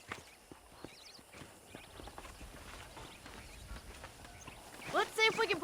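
Horse hooves clip-clop at a walking pace in the Red Dead Redemption video game, as a series of distinct, close hoofbeats that grow louder toward the end, where a short whinny breaks through.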